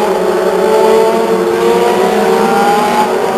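Legends race cars circling Stockton 99 Speedway produce a loud, sustained, revving engine roar, several cars blending into a steady close drone with no voices.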